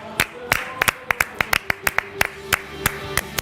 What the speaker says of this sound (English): I think this game deserves the applause as well.